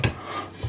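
Carbon steel blade scraping across a King whetstone (deluxe 1000 or gold 8000 grit), giving short close rasping strokes that rise at the start and end of a brief pass.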